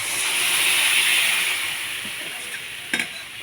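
Village-style fish curry poured into a hot pan bursts into a steady, loud hiss and sizzle that eases toward the end, broken by a couple of sharp clinks near the close.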